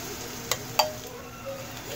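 Loncharay, Karachi-style minced meat rolls, frying gently over a low flame give a soft, steady sizzle, with two sharp clicks early on and a faint tap near the middle; no one speaks.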